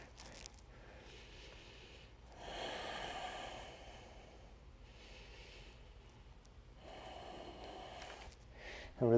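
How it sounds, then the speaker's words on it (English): Deep, slow breaths during a dynamic core yoga flow, soft drawn-out inhales and exhales close by in a quiet room. "Two more breaths."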